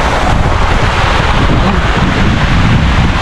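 Rushing water at Busay Falls in Pioduran, Albay, a dense, steady roar filling the whole stretch at close range, loud and unbroken with no voices over it.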